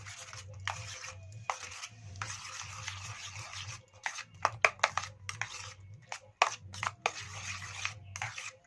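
A spoon scrapes and stirs egg and potato curry in a pan, giving repeated rubbing scrapes in short irregular bursts with brief pauses between strokes.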